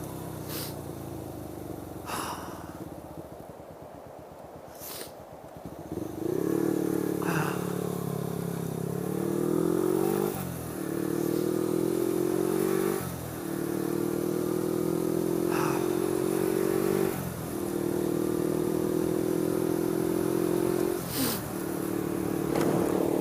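A motorcycle rumbles while being ridden, engine note rising and dropping through several gear changes as it accelerates, loud and steady with wind buffeting throughout.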